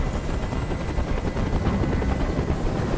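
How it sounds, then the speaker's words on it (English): A helicopter hovers overhead in the video game Detroit: Become Human, a loud, steady rotor chop and engine drone running throughout with no talk. "I can't stand that noise anymore. Tell that helicopter to get out of here."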